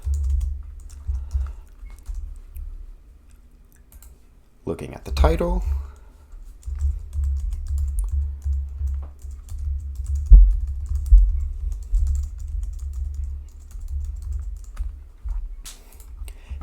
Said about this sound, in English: typing in here for testing